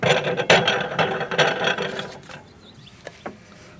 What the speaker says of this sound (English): So just tighten the T-handle as best as we can.